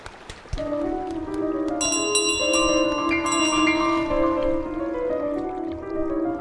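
A bell in Untitled Goose Game rings out with a sudden clear strike, then sustains a bright metallic tone with a few more overlapping chimes, fairly close and alone.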